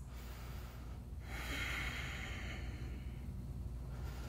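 Slow, deep breathing during a yoga stretch: a steady, airy inhale-exhale rush with a soft, snort-like nasal edge, close and continuous over quiet room noise.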